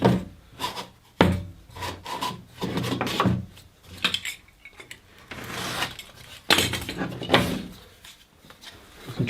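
Sandpaper rubs against wood in a workshop while a router table sled is being built, making repeated scratchy strokes of varying length in an uneven rhythm, close and fairly loud, with no talk.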